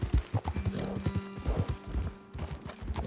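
Horse hooves clip-clop in Red Dead Redemption 2, a rapid run of close, hollow knocks from several steps, with faint background tones beneath.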